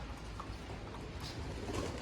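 Soft pigeon coos rise faintly out of a steady hiss of outdoor background noise, with no voices.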